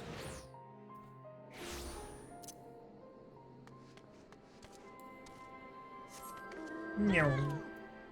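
Soft ambient tones and clicks from the video game Final Fantasy XIV play before a single clear cat meow rises near the end, close and distinct.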